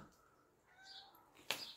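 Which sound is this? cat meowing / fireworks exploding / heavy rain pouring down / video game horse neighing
cat meowing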